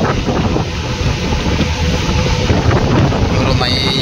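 Strong wind buffets the microphone with a steady low roar, loud and continuous throughout, mixed with rumbling engine-like noise.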